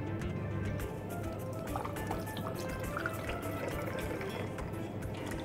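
Vodka and orange juice poured into a glass for a screwdriver cocktail, a steady close liquid pour with soft dripping and filling sounds, quiet and unbroken throughout.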